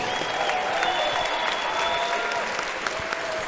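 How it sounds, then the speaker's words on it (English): Steady applause from the audience at a mixed martial arts fight night, a dense even wash of clapping with some crowd noise, moderately distant and continuous throughout. "Ladies and gentlemen, a big round of applause, please, for both of the fighters in the center of the cage."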